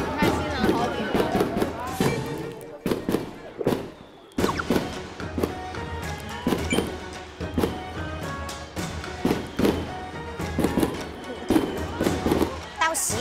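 Firecrackers crackle and bang in dense bursts at a Miao wedding, loud and close, with brief pauses between volleys and people talking underneath.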